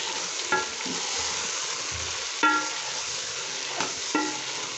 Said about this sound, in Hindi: और अब इसको मैं अच्छी तरह से मिक्स करूँगी।